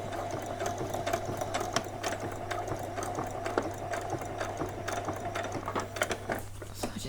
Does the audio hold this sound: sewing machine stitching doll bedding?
yes